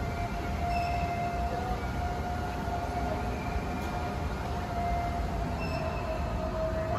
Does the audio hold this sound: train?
yes